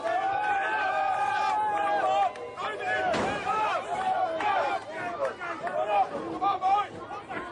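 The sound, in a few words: crowd shouting support at World's Strongest Man contest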